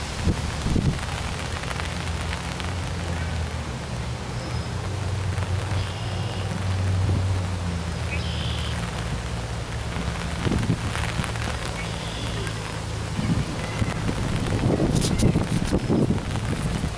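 Steady rain falls during a windy thunderstorm, a dense, continuous hiss of drops on surfaces with gusts buffeting the microphone and occasional louder splashes, recorded outdoors for about seventeen seconds.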